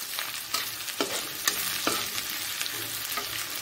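Tomatoes frying in a pan with browned onion, ginger, garlic and green chilli, seasoned with salt, turmeric and chilli powder: a steady sizzle with repeated scraping stirs of a spoon at a regular pace.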